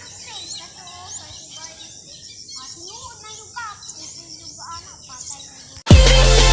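Many birds chirp outdoors in a busy chorus of short tweets and whistles, moderately near, before a sudden loud burst of wind-like noise cuts in at the end.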